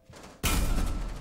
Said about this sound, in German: Thorns Waffe hört sich geil an, fühlt sich geil an und ist auch noch stark